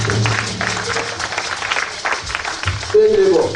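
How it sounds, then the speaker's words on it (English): Congregation clapping together at a church service, a dense, steady patter that fills the room with voices mixed in and a louder swell near the end. "Clap for Jesus."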